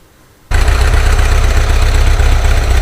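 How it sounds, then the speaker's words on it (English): Rebuilt air-cooled VW Type 2 CU 2-litre engine bursts into life after a short quiet moment, then runs loud and steady with an even rough idle and rattling clatter, no cold start assistance, no voices. "here we are with the Type 2 CU engine built up and running"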